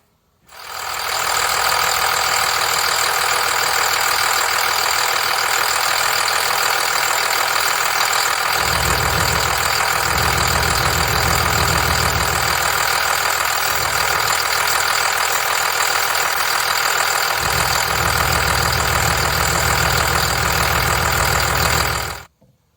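A 5.9 Cummins diesel truck engine idles after a 48RE transmission flush: a steady, loud, close rumble with a deep low drone that holds evenly for about twenty seconds, with no talk over it.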